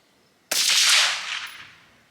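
A single rifle shot fired downrange past a Labradar LX chronograph outdoors, a sudden loud crack followed by a long, fading echo that rolls on for over a second.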